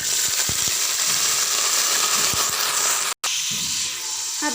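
Water poured into a pan of browned frying onions sets off a loud, steady hiss and sizzle that fills the whole stretch, broken by one brief cut near the end before the sizzling carries on.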